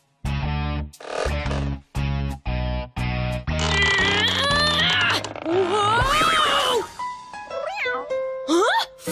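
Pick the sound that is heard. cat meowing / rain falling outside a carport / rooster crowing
cat meowing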